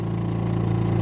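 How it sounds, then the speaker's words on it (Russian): An air-cooled outboard motor drives a boat on a hot day, giving a steady, loud, close drone with an even low hum throughout and no talk. "Чтоб мотор не перегрелся на такой жаре. Воздушное охлаждение"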